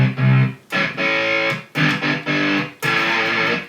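A heavily distorted electric guitar is played with string tapping and a killswitch. Loud, sustained notes are chopped into bursts by sudden silences in a stuttering rhythm.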